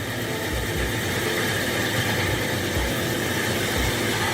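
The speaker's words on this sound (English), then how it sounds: "That is the exclusive guillotine stone cutter with a 500 horsepower engine." A guillotine stone cutter with a 500-horsepower engine runs at a steady roar, a dense continuous rumble with faint rhythmic low throbs, loud and alone without talk.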